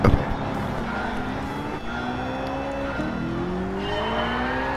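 An LS9-swapped Pontiac Trans Am in Gran Turismo 7 roars around Le Mans, its V8 loud and continuous as the pitch climbs and drops through gear changes, with faint tire noise and no talking.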